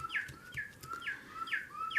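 A northern cardinal song played by an oak bird clock as it chimes the hour, a run of five clear, evenly spaced downslurred whistles repeating about every two fifths of a second, fairly close and alone.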